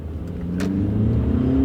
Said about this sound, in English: Plenty of acceleration.